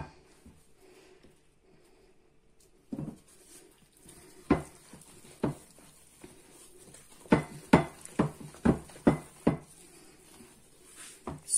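Biscuit dough of butter, egg, sugar, lemon zest, almond and flour is mixed in a bowl. After a quiet start come sharp, irregular scraping and knocking strokes that grow quicker and more regular toward the end, close and moderately loud.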